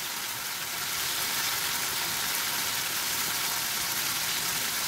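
A pork chop fries in a pan with a dense, even crackle like hissing rain. The sizzle holds steady and close throughout, alone without talk.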